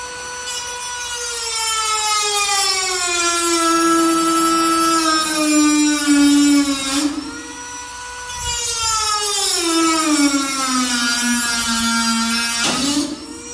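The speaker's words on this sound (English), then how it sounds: "it used to be a Dremel, but I got this fancy ass Makita now" Makita rotary power tool cutting a weld on the rear quarter panel of a 1972 Chevrolet Blazer, a loud, close, high whine that sags in pitch under load, briefly breaks off and resumes, with no talking.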